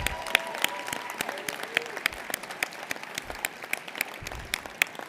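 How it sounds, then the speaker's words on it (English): A banquet audience applauds employees, a faint, sparse patter of clapping hands with individual claps standing out, distant and steady throughout. "we really need to give those 235 employees a round of applause"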